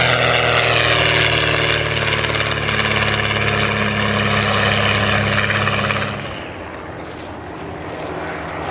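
A Westland Lysander propeller aircraft flies at a 2019 Shuttleworth airshow, its loud, steady engine drone dominating before easing off as it passes.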